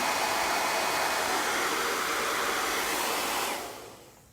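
A hair dryer on its warm setting blows with a loud, steady whooshing hum close by, drying a whitetail deer taxidermy mount, then winds down as it switches off near the end.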